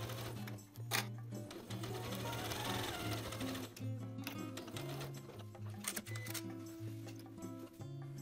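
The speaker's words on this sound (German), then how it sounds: "Bis dahin steppe ich die Teile mit einem Gradstich bei 10 mm Nahtbreite zusammen." A sewing machine runs a straight stitch at 10 mm seam width, joining the pieces of a jeans zip fly, with repeated bursts of steady motor whir and needle clatter, loud and close, alongside other background sounds.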